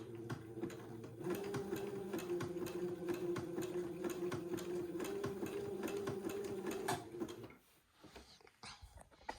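Sewing machine running a zigzag stitch over narrow ruffled lace, a steady close mechanical hum with rapid ticking for about seven seconds before stopping, followed by faint handling noises.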